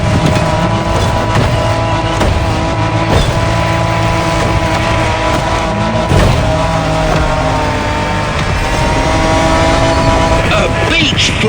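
A Japanese off-road truck rumbles steadily downhill in The Crew Motorfest, engine drone loud and continuous with a few knocks and jolts from the rough descent, under a constant music-like bed.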